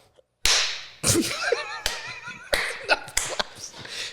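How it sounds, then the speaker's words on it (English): Sharp, loud hand claps ring out close by, a handful of separate smacks spaced irregularly, with someone talking between them. "Give me another clap there, Tim. One more clap."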